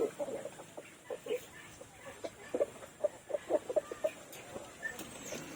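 Rhode Island Red roosters, about 11 months old, clucking and murmuring in a series of short, soft calls at close range, with no talk over them.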